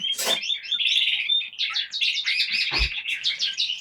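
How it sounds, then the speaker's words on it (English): Young chicks cheeping steadily in a dense, overlapping chorus of high, rapid peeps as a hen feeds them nearby, loud and close, with a couple of brief thumps and rustles, no talking. "here comes the chicks, and yeah, she's going to give them a bit of food"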